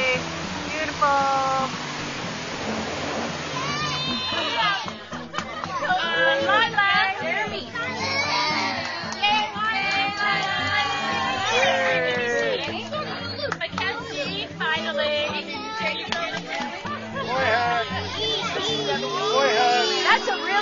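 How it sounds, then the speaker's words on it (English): Children play and shout at a beach, their high voices overlapping in lively chatter over a steady wash of surf, close and fairly loud throughout. "We're at the beach."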